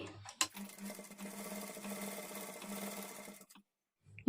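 Sewing machine running a decorative stitch along the edge of a lining, a steady close mechanical whir for about three seconds, stopping with a short click and then near silence.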